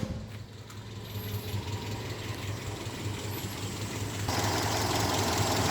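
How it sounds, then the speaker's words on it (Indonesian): A 1996 Toyota Kijang Grand Extra with the 1.8-litre 7K engine idles smoothly and steadily, a low even hum held close and alone, growing a bit louder toward the end. "Nah, ini suara mesin masih halus banget ya"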